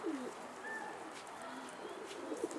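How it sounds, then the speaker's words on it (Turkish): A racing pigeon cooing softly in a quiet setting, a few low throaty coos at the start and end, faint and close, with little else around. "Kuş bu."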